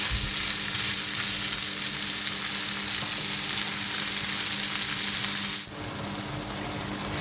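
Sauerkraut frying with sausages in a pan, giving a loud, continuous close sizzle with a brief dip near the end, and no talk over it.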